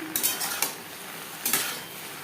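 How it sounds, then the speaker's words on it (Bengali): Okra with salt and turmeric is stirred in a pan: a few brisk scraping strokes, close and clear, over a faint background sizzle. "লবণ হলুদ ভিন্ডির সাথে বেশ ভালো করে মিক্স করে দেবো"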